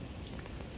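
Water sprays onto a Toyota Innova's coated paint to mimic heavy rain, a brief, close, steady hiss of spattering droplets.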